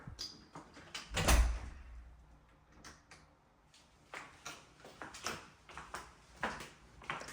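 A secondary door leading out to a screened-in pool at a four-bedroom house is opened, with a loud thump followed by a series of lighter knocks, clicks and rattles close by in a quiet room.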